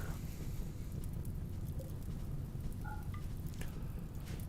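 Rain falls in the video game RimWorld as a soft, continuous hiss and patter, fairly quiet and even throughout, with a few faint chimes from the game on top.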